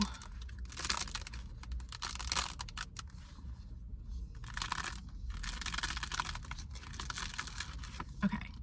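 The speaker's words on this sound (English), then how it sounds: "I think I can like also crack the sprayed edges" Crisp crackling and crinkling from the sprayed edges of a new, untouched hardcover book being flexed and cracked open, close and fairly quiet, in several bursts with short pauses.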